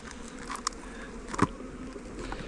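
Honey bees buzz faintly around a hive frame pulled from a split colony, soft steady droning with a couple of brief closer passes.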